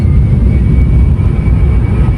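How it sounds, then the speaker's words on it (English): Airplane passing overhead outdoors beside water, a loud steady low engine roar and rumble filling the whole stretch without pause. "we wait for the plane to go by"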